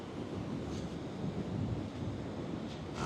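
Ocean waves at high tide wash steadily along the Blackpool seafront, a continuous broad rush of surf mixed with wind noise and no voices.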